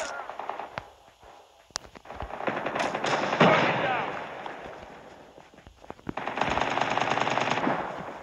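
Rapid automatic gunfire from a PDW-57 in a Call of Duty Mobile front line match, long dense bursts with a break in the middle, loud and close, mixed with footsteps and game voice callouts.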